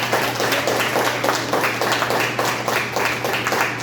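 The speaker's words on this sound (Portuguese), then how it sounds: "Vamos dar uma salva de palmas para Jesus" A church congregation claps together in a steady, even rhythm, loud and close, with a low electrical hum underneath throughout.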